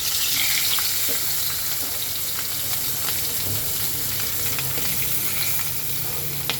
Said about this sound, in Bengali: মাছের মাথাটা ভাজার জন্য তেল গরম হয়ে গেছে এখন আমি এক এক করে মাছগুলি ভেজে নেব